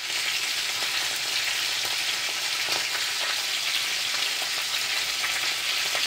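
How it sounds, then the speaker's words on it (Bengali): Hilsa fish sizzles steadily in hot mustard oil, a dense, bright crackle of frying that holds constant and close with no talking. "মাছ ভাজাটা করছি। তো অলমোস্ট কমপ্লিট হয়ে গেছে আমার ইলিশ মাছ।"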